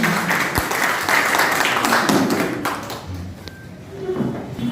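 Audience clapping at a civic felicitation ceremony, a burst of applause that tapers off, with a few louder taps and thumps and some faint voices underneath.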